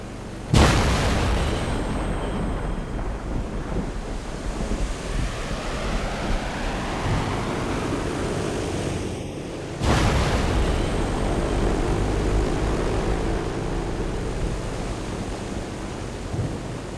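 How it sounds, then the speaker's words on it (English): A C-130 transport plane makes a jet-assisted takeoff at an air show, a loud sustained roar with wind buffeting the microphone and a sharp second surge of power about midway. "their C-130 transport crew demonstrates the jet-assisted takeoff"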